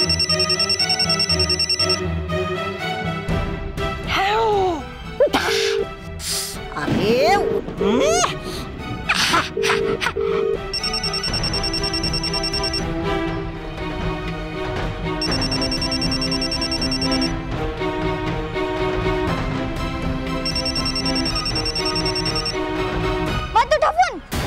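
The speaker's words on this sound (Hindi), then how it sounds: "अरे ये किसका फोन आया?" A telephone rings with an incoming call in a Hindi TV drama. The ringtone comes in repeated bursts lasting a few seconds each, mixed with dramatic music and whooshing effects, and a voice briefly speaks.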